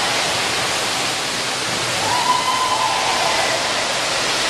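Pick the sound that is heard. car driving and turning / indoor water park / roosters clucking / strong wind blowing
indoor water park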